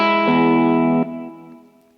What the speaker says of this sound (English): So now we have a nice little echo.